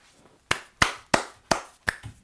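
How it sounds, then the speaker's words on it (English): Five or six separate hand claps spaced about a third of a second apart, sharp and close, from a single person on a live election-night stream, with near silence between the claps. "Please clap"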